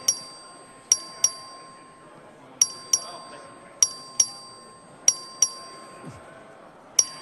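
A clerk rings the voting bell in the Texas House chamber. Bright metallic dings sound close, often in quick pairs, repeating over several seconds above a quiet room hum.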